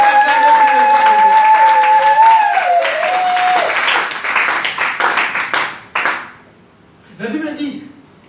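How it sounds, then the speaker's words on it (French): A church congregation claps and cheers for Jesus. Loud, dense applause swells under a sustained tone and fades into scattered claps, then a short burst of crowd noise returns near the end. "Est-ce que vous pouvez acclamer pour Jésus?"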